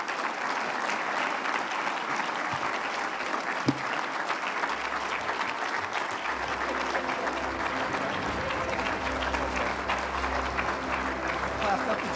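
An audience at an awards ceremony applauds loudly and steadily for the full length, a dense sustained wash of clapping with some crowd voices mixed in.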